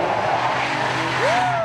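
A car driven fast lets out a rising tire squeal near the end over a steady engine roar. The sound is loud and close.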